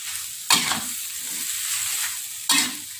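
Long beans scrambled with egg sizzle dry in a pan, with two sharp stirring scrapes about two seconds apart over a constant hiss, close and without talk.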